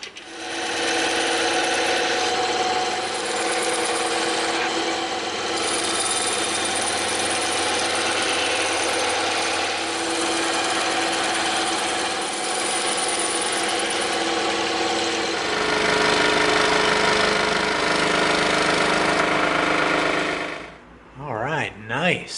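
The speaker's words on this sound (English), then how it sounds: "the rest are straight cuts, so we can use the bandsaw for this" A bandsaw cuts straight lines through EVA foam for a Lost in Space blaster prop, its steady motor whine and buzzing blade running for about twenty seconds before winding down to near quiet.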